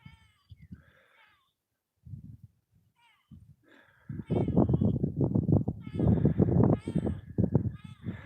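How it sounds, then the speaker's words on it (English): A farm cat gives a few short, soft meows, then a long run of louder, strained, warbling yowls, close by and without talk. "You sound pretty weird there, kitty."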